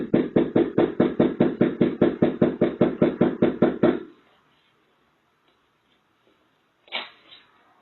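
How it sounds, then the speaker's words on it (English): Rapid, steady knocking on an apartment door in Charlotte, North Carolina, recorded by a Ring doorbell camera: about twenty close, loud raps in a four-second run, then silence and one louder thump. "A border patrol agent was captured on a Ring doorbell camera knocking on an apartment door in Charlotte, North Carolina, but received no answer."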